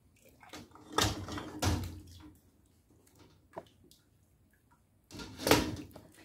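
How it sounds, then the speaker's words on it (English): Water is scooped out of a canning pot during water bath canning, with a few close sloshing splashes separated by quiet pauses. "I think I might scoop some of that water out so I can see what's going on underneath."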